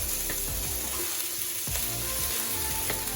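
Steady, close sizzling of tofu frying in a pan for a yellow Thai curry, with occasional scraping stirs breaking through the crackle.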